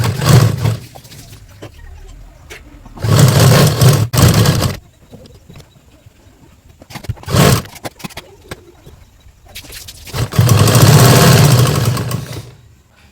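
A sewing machine stitching kurti fabric line by line, with several loud, rumbling motor runs lasting one to two seconds each, separated by quieter pauses.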